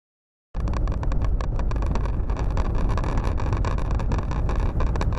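Car cruising on the interstate toward Los Angeles, a constant loud road and wind rumble that starts abruptly and holds steady without voices.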